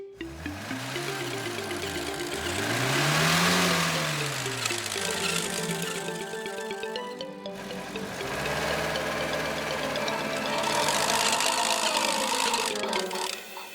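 Crane truck and bulldozer engines in a French cartoon about rescue vehicles rumble steadily, with a whining tone that swoops up and down in repeated arcs over a continuous mechanical drone, no voices present.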